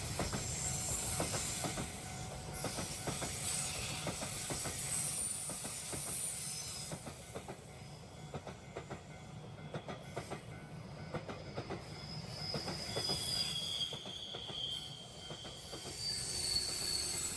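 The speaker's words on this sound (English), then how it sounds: "And that's the locomotive to help the train up the gradient." A train climbing a gradient with an extra banking locomotive attached, its wheels squealing loudly and steadily while rhythmic clickety-clack runs through, heard alone at a level crossing.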